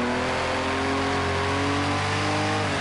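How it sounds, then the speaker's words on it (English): A Gr.6 race car engine in Project Cars 2 screams at high revs in second gear, a loud, sustained, steady whine with no talk over it. "I'm high revving it on that second gear"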